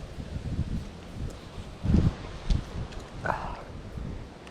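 Wind blowing outdoors beside a creek, a soft rustling rush with a few gusty bumps; fairly faint and close to the microphone.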